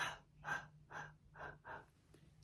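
An elderly woman with a chest infection at a dementia unit takes a run of about five short, breathy exhales during gentle chest percussion in a quiet room, each one close and soft, evenly spaced.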